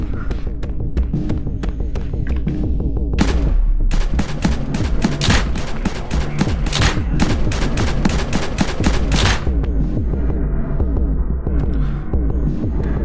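Rapid rifle fire in a video game, a long dense burst of shots in the middle over a steady throbbing hum, with scattered shots before and after.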